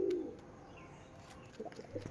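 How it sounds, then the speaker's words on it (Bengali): Pigeons kept for sale, with a short low coo at the start followed by faint ambient noise and a few soft bird sounds toward the end. "এই যে ভালো কোয়ালিটির পায়রা আছে"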